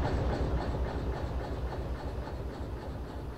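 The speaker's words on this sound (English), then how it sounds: "let's stop our locomotive" A locomotive in the Derail Valley train game rumbles and clatters on the rails, its steady low drone fading slightly as it slows toward a stop, with no voices.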